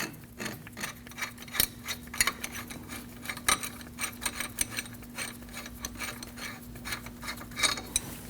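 Lug nuts being removed with a wrench during a front brake job on a 2003-2008 Subaru Forester, steady run of close metallic ratcheting clicks and clinks over a faint background hum, no talk.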